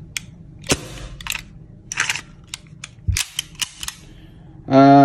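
Silver WE M92 airsoft pistol fired in several sharp, snappy cracks spaced irregularly across a quiet room, each a crisp short pop with a metallic click, followed by a burst of talking at the end.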